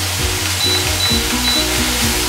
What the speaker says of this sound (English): So I need to cook this for a few minutes so that the onion softens but doesn't colour too much